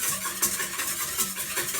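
A utensil whisks a couple of eggs in a bowl for a pumpkin treat, giving quick, rhythmic scraping and sloshing strokes at close range with no talking.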